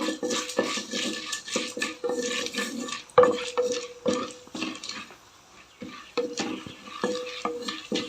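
Chana dal being stirred in a pan with light scraping and clinking of a spoon against metal, steady and close, with faint sizzling underneath and no talk.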